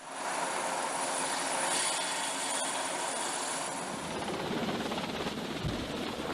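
Steady, loud helicopter engine roar throughout, a continuous broadband drone overhead during ship-to-ship cargo transfer, with no voices.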